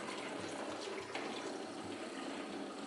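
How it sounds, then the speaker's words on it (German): Water runs steadily into a JOBO CPE3 film processor for the second rinse of E6 development, a continuous even hiss of filling liquid with no talk. "Jetzt kommt die zweite Hälfte Wasser rein."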